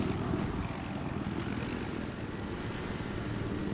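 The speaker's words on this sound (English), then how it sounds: "I hear a chopper above us." Helicopter flying overhead in a video game, a steady droning rotor and engine roar, continuous and moderately loud, with no talk.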